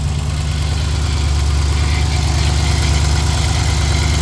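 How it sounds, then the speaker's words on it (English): A Chrysler engine idles steadily up close with a constant low rumble, and a continuous whine from the power steering pump sits over it for the whole stretch, with no talk. "Power steering pump's crying. I'm about to turn it off, but no lifter noise."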